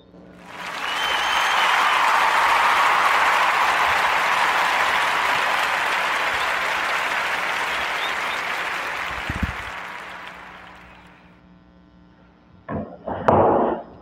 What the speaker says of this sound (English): join me in giving our sister, Ayo Osman, a warm Narrative Podcast round of applause